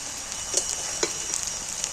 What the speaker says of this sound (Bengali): ওই তেলের মধ্যে পেঁয়াজগুলোকে একটু নাড়াচাড়া করে নিই ভালো করে নাড়তে নাড়তে ভেজে নিলাম